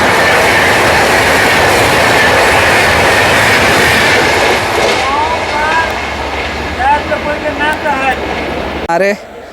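A passenger train runs from Patna to Rajgir while the Ajmer Bhagalpur Humsafar Express overtakes it, giving a loud continuous rumble of wheels on rails, with thin squeals and clatter rising toward the end.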